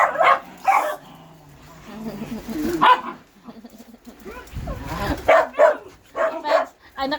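Several puppies bark and yip excitedly in greeting, sharp overlapping bursts in uneven clusters close by, with a few whimpers between and people talking underneath.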